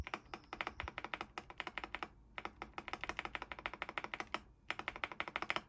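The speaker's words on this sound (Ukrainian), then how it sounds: "Натискаються дуже приємно кнопки, і звук такий дуже привабливий." Keys of an Epomaker Dynatab 75 mechanical keyboard with Black Wisteria switches clack rapidly and steadily, a dense stream of crisp presses with a couple of brief pauses.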